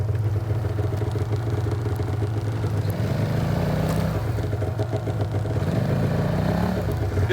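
A small engine runs roughly during an extreme cold blizzard start, a steady loud idle with two rising rev swells, nearby and with no one talking.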